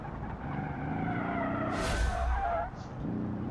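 A 1972 off-road car drifting in the Automation racing game, its engine droning steadily while the tires break into a loud skidding squeal for about a second before the engine tone returns.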